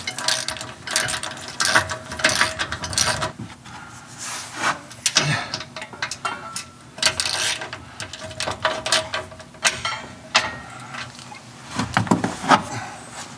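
A ratchet clicks in repeated bursts while bolts on a Ram 3500 truck's front anti-sway bar are snugged up, with rasping strokes and pauses between runs, close and without talking.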